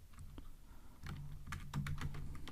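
Keys clatter on a computer keyboard as code is typed, a quiet, quick run of soft taps that grows a little denser and louder toward the end.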